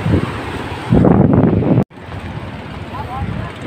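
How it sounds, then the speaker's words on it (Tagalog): Wind gusts across the microphone in heavy, rumbling bursts near the coast, briefly cutting out before the blustery noise resumes. "Mahangin dito pero hindi naman ano, hindi naman sobrang lakas."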